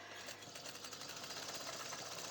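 Sewing machine stitching over an overlocked edge on a bath towel, a steady, fast mechanical whirr that runs continuously at moderate level.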